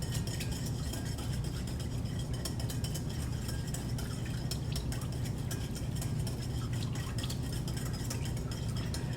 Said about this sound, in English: I'm just going to do hand whisking, which should also protect the soap from tracing too fast